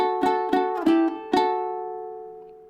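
A ukulele plays a short chord change, four plucked strums spaced unevenly, the last chord left ringing and slowly fading. Close and clear, no voices.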